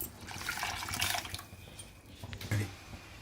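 Water is poured from a tumbler into dissolved toor dal in a home kitchen, giving a brief close splashing and trickling pour with a short gurgle near the end.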